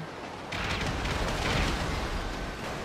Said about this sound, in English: be ready for an explosion and then the dump truck dying